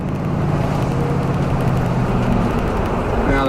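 An '83 Buick LeSabre wagon with a swapped-in LT1 engine being driven, giving a steady, loud, continuous engine drone with road rumble and no break.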